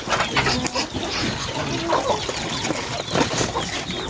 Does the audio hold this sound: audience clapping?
no